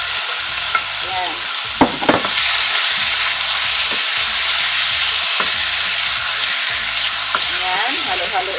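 Chicken and onions fry in a pan with a steady, close sizzle, broken by scraping and clacking as a utensil stirs them.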